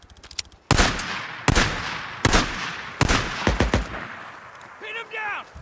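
Gunfire in the video game Days Gone: five or six loud, sharp shots crack at irregular intervals, each trailing into a short echo, with a voice calling out briefly at the end.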